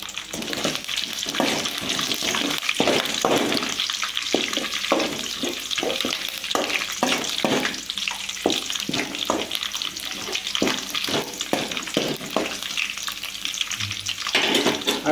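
Garlic sizzling in hot oil in a pan while lemon rice is cooked, a loud continuous crackling fry broken by regular stirring scrapes and clinks, close and uninterrupted by speech.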